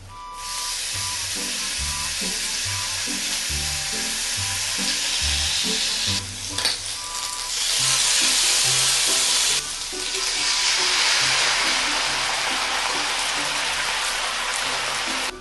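Japanese wagyu beef sizzles steadily in a sukiyaki pan with long spring onion, a loud, continuous close-up frying hiss that briefly dips in the middle before surging again, with no voices.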